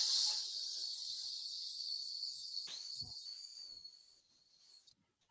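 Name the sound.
voice imitating a hissing snake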